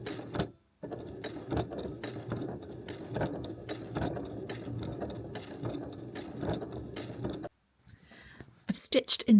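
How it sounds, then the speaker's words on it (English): A sewing machine slowly quilting, stitching in the ditch, runs as a steady close mechanical chatter for several seconds, stops briefly, then resumes before faint handling noises. "I've stitched in the ditch and I've managed to get it quite accurate because I'm going so slow"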